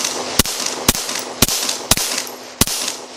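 Five sharp shots from a pistol firing +P rounds at a steel target ring out at irregular intervals, each a loud crack with a brief echo over a faint background hum.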